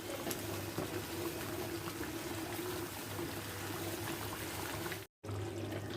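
Chicken curry with green chillies bubbles steadily in a pot, a continuous low simmering hiss with soft popping that holds evenly for several seconds before a brief break, then resumes, with no voices.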